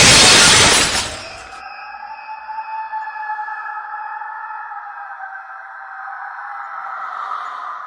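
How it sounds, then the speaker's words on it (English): A sharp, loud crash of a mirror shattering, then a long eerie ringing tone that lingers and hums for several seconds. "The mirror shattered."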